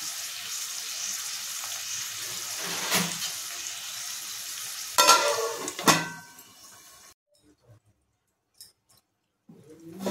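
Onions frying in a covered pan for chicken biryani, a steady soft sizzle with a few louder lid or stirring clatters before it drops away to near silence, then returns faintly at the end.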